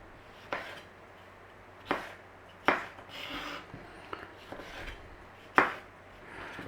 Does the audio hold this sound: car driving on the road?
no